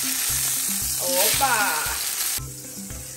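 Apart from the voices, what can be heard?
ham frying in a pan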